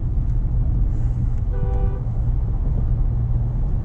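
Inside a Mahindra Scorpio N petrol SUV on the road, a steady low engine drone and road rumble fill the cabin, with a brief car horn toot from outside midway.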